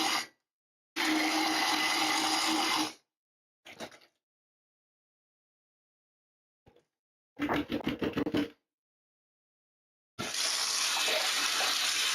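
Tap water running loudly in bursts, roughly two seconds at a time with silent gaps, plus a short run of choppy mechanical whirring like a blender mid-way while a drink is made in a garage, close by.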